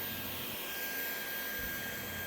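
Dyson V11 cordless vacuum cleaner running at a steady, fairly quiet whine with an even motor hum and airflow hiss, alone without talk.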